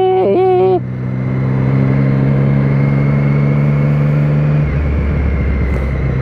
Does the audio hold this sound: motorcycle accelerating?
yes